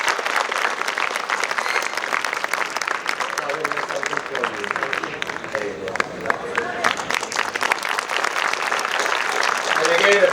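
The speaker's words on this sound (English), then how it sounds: "a big, big, big round of applause for everyone that went into this." Audience applauding after a school English play, a dense, steady roar of clapping that runs unbroken for about ten seconds, with crowd murmur mixed into it.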